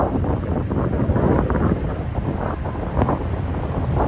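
Strong wind roars across a high mountain top at Megamalai, buffeting the microphone in a loud, steady rush with gusty surges throughout.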